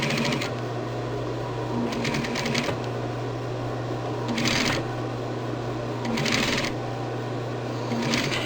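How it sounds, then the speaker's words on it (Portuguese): A straight-stitch sewing machine stitches fabric along a curved edge, running in several short steady bursts with pauses between them, close and clear, over a constant background hum. "Eu tô costurando com a reta"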